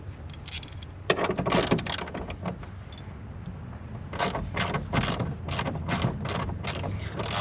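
A hand ratchet clicks in quick bursts while backing out 10mm bolts behind the grille of a 2025 Ford F150. The rapid pawl clatter comes close, with short pauses between runs.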